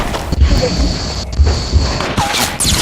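Gunfire bursts in Fortnite as an enemy shoots at the player, with repeated sharp shots and heavy thuds close up and loud against a steady background of game noise.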